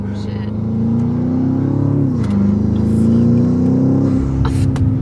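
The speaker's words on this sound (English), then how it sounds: "you can hear the rumble in the V8" A loud, deep V8 rumble from a BMW X5M SUV builds as it accelerates, its pitch climbing, dipping briefly at a gear change, then rising again.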